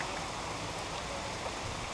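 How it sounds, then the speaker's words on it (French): Heavy rain pouring down in Thailand, a dense, steady hiss of downpour hitting the ground, constant and even for the whole moment with no voices. "Comme vous pouvez le voir, la pluie est arrivée."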